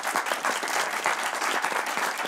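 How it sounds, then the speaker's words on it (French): A room full of people at a student talk claps steadily for a couple of seconds, even and unbroken. "On peut l'applaudir encore."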